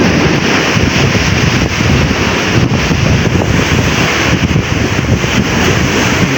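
Strong ocean waves crash and roar continuously at Bangon Beach in Lupi, Camarines Sur, a loud, dense wash of surf heavily mixed with wind buffeting the microphone, with no voices.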